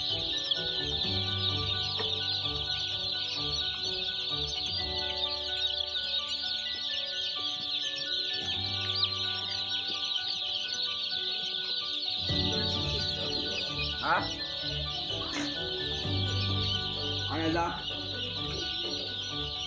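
Chicks peeping continuously in a small heated brooding room for up to a thousand birds, a dense high chorus of chirps throughout, joined by occasional nearby clucks and short bursts of talking in the background.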